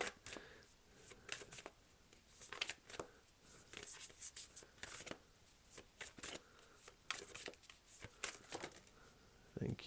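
Tarot cards from a Rama deck being shuffled by hand, with repeated crisp riffling bursts and soft flicks in an irregular rhythm, close up and fairly quiet, with no talking.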